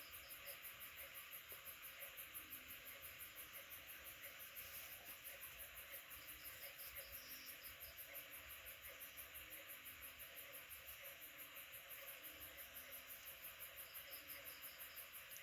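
Frogs and narrow-mouthed toads calling at night after rain, a continuous chorus of pulsing trills with faint croaks repeating in the background, steady and moderately distant with no voices.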